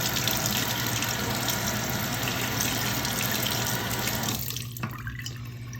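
A piston fountain pen's nib unit rinsed under a running tap, a steady, loud rush of water into a sink that softens near the end, with no voices.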